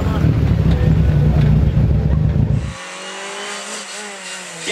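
A Volkswagen Golf II GTI rally car roars past at the Mecsek Rally, loud engine and wind buffeting for nearly three seconds, then cutting to a quieter interior-like whine with rising engine tones.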